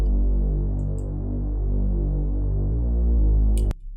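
A deep Serum synth note drones in mono legato, a loud, sustained, buzzing bass tone that glides smoothly to a new pitch partway through and then cuts off sharply.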